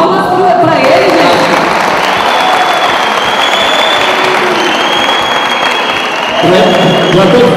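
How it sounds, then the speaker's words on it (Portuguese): Applause from a crowd at a civic event, honoring a sanitation worker; loud, sustained clapping fills the whole stretch with some cheering mixed in, dipping briefly before swelling again near the end. "Palmas para ele"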